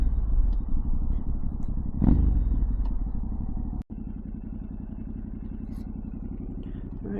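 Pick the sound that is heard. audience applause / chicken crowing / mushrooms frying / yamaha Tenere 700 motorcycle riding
yamaha Tenere 700 motorcycle riding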